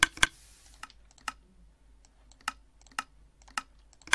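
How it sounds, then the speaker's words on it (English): Minecraft redstone dropper system clicking in the game, a sparse series of sharp, crisp clicks at irregular intervals, some in quick pairs, fairly faint with quiet gaps between. "the dropper system is extremely loud."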